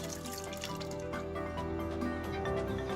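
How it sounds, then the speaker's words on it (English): Water is poured from a watering can onto soil over freshly planted allium bulbs in a balcony pot, making soft drips and wet splashes that trickle on steadily for a few seconds. "To finish off the job, providing a good dose of water."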